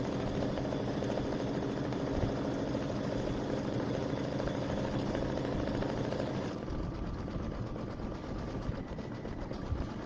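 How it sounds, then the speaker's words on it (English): A sewing machine runs satin stitches on an applique on an Easter egg zipper bag, a fast steady mechanical whir close by that drops to a lighter hum partway through, with no talk. "this is going to do the satin stitches on this little applique"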